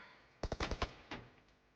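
Gunfire in the PUBG Mobile video game: a rapid burst of about five shots followed by one more, fairly faint and with no voices over it.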